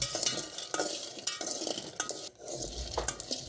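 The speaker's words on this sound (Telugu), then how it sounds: "ముందుగా ఒక టూ ఫిఫ్టీ గ్రామ్స్ పల్లీలు తీసుకుని ఈ విధంగా వేయించుకోవాలి" Peanuts, about 250 grams, are roasted dry in a pan for chutney, giving a steady clatter and scrape of nuts stirred against the metal, with repeated sharp knocks of the spoon, close and moderately loud with no talk.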